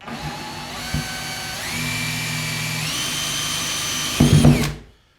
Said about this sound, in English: try and keep the drill square, perpendicular off that surface